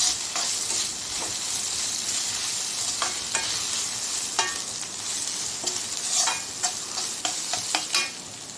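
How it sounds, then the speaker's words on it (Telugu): Ginger garlic paste sautéing in a pan for an egg curry, with a steady close sizzle and hiss throughout and scattered sharp spatters and stirring scrapes, growing busier toward the end. No voices. "కొంచెం అల్లం వెల్లుల్లి పేస్ట్ ఒక 2 minutes వరకు సాటే చేసుకోండి"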